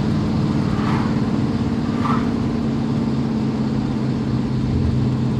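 A 1991 TVR V8S engine pulls steadily from inside the cabin, with a constant loud low drone and broadband road noise throughout and no clear rise in pitch.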